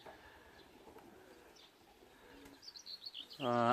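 Racing pigeons back from a 133 km race from Kalvarija give a loud, close, harmonic cooing burst at the very end, after faint chirps and quiet loft ambience.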